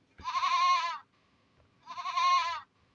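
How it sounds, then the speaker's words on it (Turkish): A goat in the Toca Boca World video game bleats twice, two clear, wavering cries about a second apart, close and alone. "Keçi bu."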